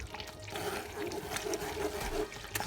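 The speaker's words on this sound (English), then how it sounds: "Just want to sieve it nicely into the soup." Vegetable broth pours through a sieve into a pot of Ghana chicken soup, a soft continuous trickle and splash of liquid at close range, fairly quiet, with no talking.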